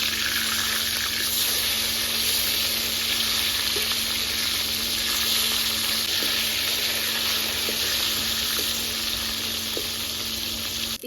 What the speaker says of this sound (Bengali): মাছের এক সাইড ভাজা হয়ে গেছে